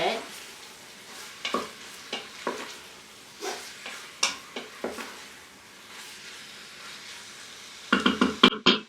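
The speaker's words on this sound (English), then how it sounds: "I'm going to toss this in with my vegetables and just get that cooking a little bit" Chicken tossed in with vegetables in an Instant Pot, about 1.5 pounds, for a chicken, broccoli and rice casserole, stirred with a series of scraping, clattering knocks over a faint background sizzle, a quick cluster of knocks at the end.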